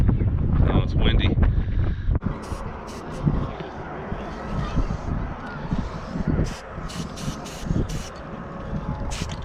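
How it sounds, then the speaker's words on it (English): Strong wind blows at Cadillac Ranch near Amarillo, Texas, roaring and buffeting a nearby microphone in uneven gusts for several seconds, with brief hissing bursts near the end. "Oh, it's windy."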